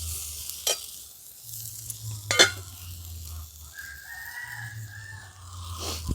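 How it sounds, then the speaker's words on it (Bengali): Eggplant and potatoes frying in a pan as they are stirred, a soft steady sizzle with a few sharp spatula scrapes, while a rooster crows faintly in the background. "ঢাকাটা খুলে একবার নেড়ে দিচ্ছি।"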